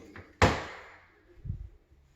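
A bathroom door in a renovated home swings shut with one sharp near thud that rings briefly, followed by a softer low bump about a second later.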